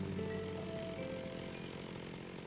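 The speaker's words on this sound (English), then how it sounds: "Fight him with a chainsaw." A chainsaw sound effect in a modded Minecraft game, used while fighting a spider: a steady, buzzing engine drone that holds constant throughout, with no talking over it.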